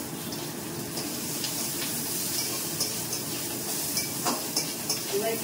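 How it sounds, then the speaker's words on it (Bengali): Peanuts frying in a home kitchen pan give a steady, moderately loud sizzle with faint watery hiss and a few soft clinks near the end, with no talk over it. "আর একটু বাদাম ভাজতে দিলাম"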